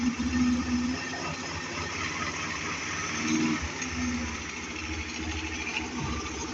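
Small engine of a homemade buggy running steadily just after being started, a continuous low idling rumble with slight swells, moderately close and no speech.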